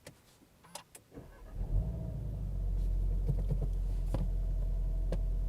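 A VW Golf R MK7 is started with its start button, a few clicks from the cabin, then the engine cranks, catches and settles into a loud, steady deep idle rumble, heard close with no speech.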